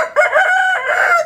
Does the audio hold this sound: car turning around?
no